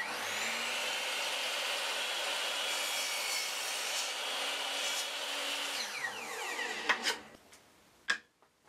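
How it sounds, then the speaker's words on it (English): A miter saw trimming a wooden box front: the motor whines loudly and steadily as the blade cuts through the wood, then spins down, followed by a couple of sharp knocks as the piece is set down. "I just trim this up using the miter saw"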